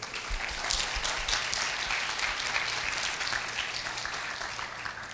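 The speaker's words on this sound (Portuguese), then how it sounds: "É uma salva de palmas aí para as mulheres, por favor." Sustained applause from a classroom audience for the women on International Women's Day, a dense steady patter of clapping that holds at an even level throughout, with no voices over it.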